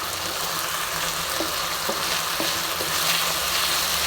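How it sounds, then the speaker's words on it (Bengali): Panch phoron chicken masala fries hard on a raised flame, a dense, continuous sizzle with a few soft scraping strokes of stirring running through it, close and loud, with no voices. "ভালো করে কষবো। ফ্লেমটা আমি একটু বাড়িয়ে দিলাম।"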